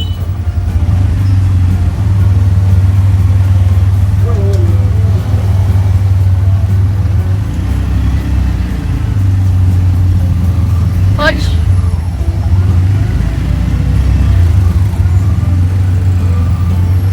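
Car engines idle and rev in chaotic Siem Reap traffic in Cambodia, a steady low rumble running throughout with a brief higher whine near the middle and people talking over it.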